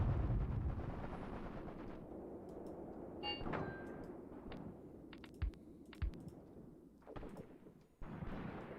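Distant machine gun fire rattles in bursts on a wartime battlefield in the tactical game Graviteam Tactics: Mius Front, with scattered sharp reports and a heavy thump standing out over a steady low rumble.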